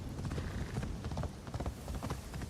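A horse's hooves clip-clop in a quick, steady rhythm in Assassin's Creed Shadows, a fairly close game sound with no talk over it.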